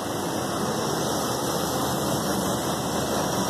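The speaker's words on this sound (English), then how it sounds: "Listen to that, ladies and gentlemen. Perfect running vehicle." A rebuilt car engine running at a steady idle, a constant even drone close by with no talking.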